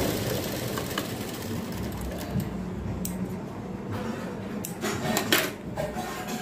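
A sewing machine stitches elastic onto a fabric strip for a baby frock, its motor chattering steadily and fairly close, with some clicks and handling noises toward the end.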